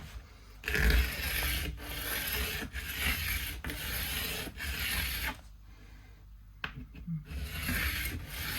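Nut blank for a Fender 3/4 size classical guitar being filed down, with close, repeated rasping strokes in a steady back-and-forth rhythm and brief pauses between passes.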